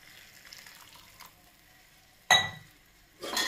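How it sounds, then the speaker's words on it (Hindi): A glass clinks against a pan before a glassful of water is poured into a simmering moth bean curry, giving a short burst of splashing hiss over quiet kitchen background. "इसमें डाल दूंगी मैं 1 गिलास भर के पानी।"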